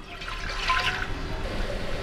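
Water poured into a pot for mushroom rice, a short steady gushing splash at close range, faint background hum.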